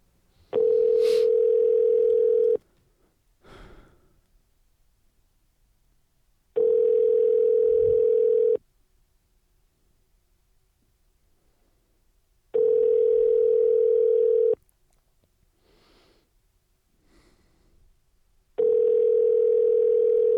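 A telephone line rings while the caller waits for an answer, giving four even, steady ring tones separated by long silent gaps. Faint rustles and a brief low murmur fall between the rings.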